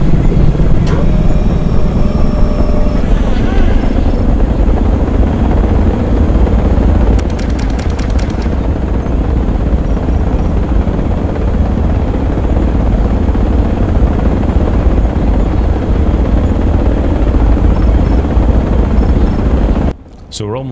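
Chinook helicopter in the Project Reality video game, with loud, continuous rotor thump and turbine roar running steadily throughout, under a brief burst of higher noise midway and an abrupt cut near the end.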